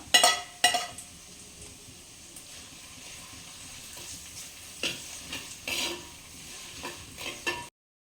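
Crushed ginger and garlic fry in a pan for chicken curry, a low steady sizzle broken by several sharp bursts of stirring and scraping.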